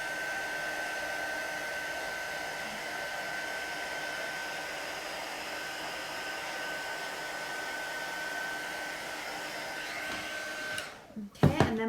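A heat tool blows steadily over stamped ink on a card, a constant whirring hiss at moderate level that runs the whole time and ends abruptly with a click and handling noise.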